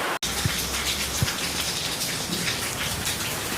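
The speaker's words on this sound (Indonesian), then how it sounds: "Ini cuman hujannya gede banget ini Bang nih" Heavy rain pours steadily at a cattle farm in Tangerang, a dense constant hiss of drops close by with a couple of brief louder splashes and no talking.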